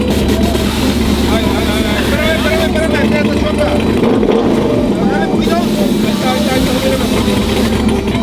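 A truck engine runs hard in a burnout pit at a crowded truck show, a loud continuous roar with rising and falling revs while voices and crowd chatter carry on underneath.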